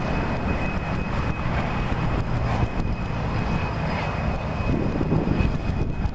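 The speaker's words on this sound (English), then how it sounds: "you might be able to hear in the background," A fixed-wing airplane flies near Sydney Airport, a steady broadband engine roar that holds at a constant level throughout, with a faint high whine on top and no talk.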